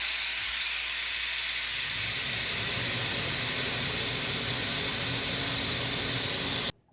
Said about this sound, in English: release the whistle away from you. So make sure the steam is going away from you